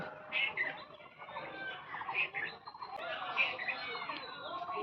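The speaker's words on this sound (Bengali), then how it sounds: "আর কীরকম পাখি ডাকছে গাছের মধ্যে শুধু পাখি আর পাখি" Birds chirp among the trees in a garden, with short, fairly faint calls repeating against a soft outdoor background and no one speaking.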